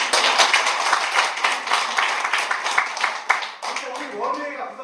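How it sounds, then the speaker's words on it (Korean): Audience clapping at a lecture on saju fortune-telling logic, a dense, steady patter from a room of listeners lasting several seconds and tapering off near the end as a voice begins. "박수 한번 쳐주시죠"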